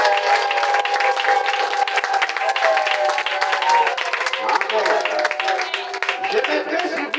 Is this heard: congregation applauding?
yes